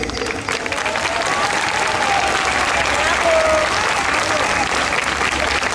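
A concert crowd claps loudly and continuously for a performer, a thick, even roar of applause with faint cheering voices and a brief whistle-like tone mixed in.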